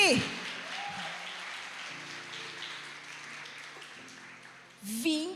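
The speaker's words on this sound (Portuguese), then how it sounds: "Uma salva de palmas para o pastor" Congregation applauding in a church service, a broad steady wash of clapping lasting several seconds with some voices and a short vocal outburst near the end.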